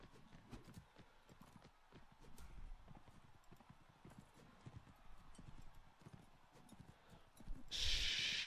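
Clip-clopping horse hooves from the video game Mount and Blade Warband, a steady rhythmic trot close up with a snort or whinny, rising to a bright noisy burst at the end.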